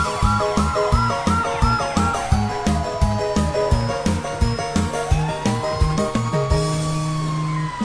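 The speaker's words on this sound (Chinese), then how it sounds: "拉响警报，哇呜哇呜" A fire truck siren in a children's cartoon sounds as wailing, sweeping tones at the start, then settles into steady tones over a rhythmic, bouncy backing that loops for several seconds.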